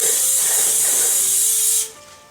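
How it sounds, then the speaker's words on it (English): Cooking spray oil hisses steadily from an aerosol can as it greases the inside of a springform pan for fruitcake, a loud continuous spray lasting nearly two seconds before cutting off abruptly. "grab some cooking spray oil and we're just going to grease the inside"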